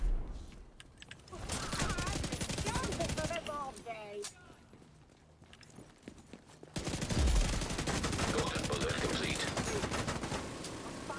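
Rapid gunfire from the Striker shotgun in a video game, bursts of shots with brief gaps, loud and close, with voices talking over parts of it.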